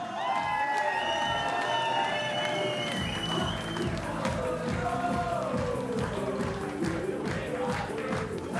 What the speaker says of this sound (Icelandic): Við gefum Matta líka gott klapp.